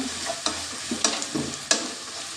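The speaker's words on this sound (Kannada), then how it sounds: "ನೋಡಿ ಈಗ ಫ್ರೈ ಆಗ್ತಾ ಉಂಟು" Egg masala with pepper powder frying in a pan, a steady close sizzle broken by three or four sharp scrapes of a spoon stirring, with no voices.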